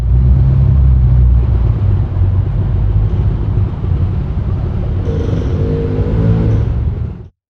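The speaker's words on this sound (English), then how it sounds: "And here's the same sample through a bus stop enclosure panel." Muffled road traffic drones on, its rumble dull and low as if heard through a barrier, with a vehicle surging past before it cuts off.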